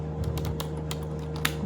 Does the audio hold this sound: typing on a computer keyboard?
yes